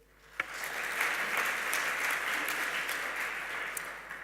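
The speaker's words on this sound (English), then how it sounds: "I know there's more clapping to be done." Conference audience applause at a financial inclusion forum, a steady, moderately loud wash of many hands clapping that starts abruptly and holds evenly for about four seconds.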